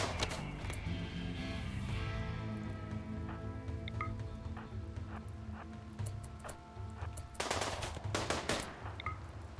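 Bursts of gunfire from the colony-management video game RimWorld, quiet and scattered, with rapid clustered shots and intermittent single cracks spread across the stretch.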